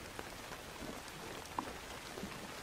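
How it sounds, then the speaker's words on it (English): Rain falls steadily, a soft continuous hiss of drops with a few faint individual patters, quiet and even throughout, no talk. "Does the rain bother them, Eric?"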